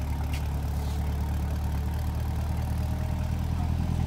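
A 2021 Chevrolet Corvette Stingray with its 6.2L V8 runs with a steady, deep, even rumble close by, holding a low idle-like note throughout without a clear rise in pitch, and nobody speaks.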